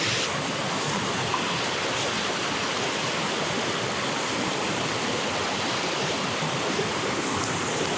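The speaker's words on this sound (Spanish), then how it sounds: "Estáis viendo toda la pinta con todo el agua que baja" Rain-swollen water rushing down through a forest after days of rain, a steady, loud broadband roar with no break, close by and alone.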